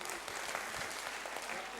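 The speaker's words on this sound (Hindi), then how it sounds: "इनके लिए जरा जोर से तालियां बजाइए।" Audience applause at a technical safety session, a steady moderate patter of many hands clapping through the whole short stretch, with no talk over it.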